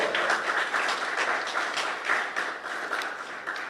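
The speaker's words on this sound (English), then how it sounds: "Give her a round of applause." Audience applause at an essay competition prize-giving ceremony, a steady wash of many hands clapping that holds at a fairly even level for a few seconds.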